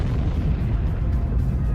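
A supernova explosion sound effect for a space documentary, a loud, sustained low rumbling roar that fills the whole stretch without letting up.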